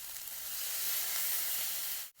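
A steady, close hiss of fish sauce sizzling against the side of a hot wok, holding evenly for about two seconds before cutting off abruptly.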